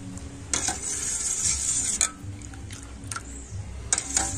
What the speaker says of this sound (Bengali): আর এই দুধটা আমি এখন খুব ভালোভাবে নাড়াচাড়া করে নেব